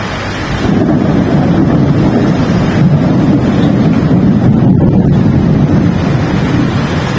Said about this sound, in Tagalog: Kumukulog at kumikidlat.